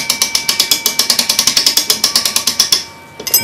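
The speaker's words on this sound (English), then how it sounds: "Now wind the spring up tightly" Clock mainspring from an American clock barrel being wound tight on a ratcheting winder: a steady run of about twenty-five close, crisp ratchet clicks at an even rhythm, stopping abruptly, followed by a couple of faint handling knocks.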